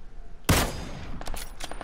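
Gunfire in PUBG: one sharp, close shot cracks loudly, followed by a few fainter, quicker reports trailing off.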